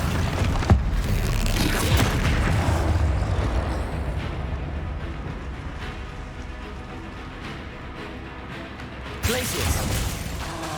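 A Bombarda blasting spell explodes in Hogwarts Legacy: a sharp, booming burst near the start, then a mechanical rumble of battle, and a second loud blast near the end.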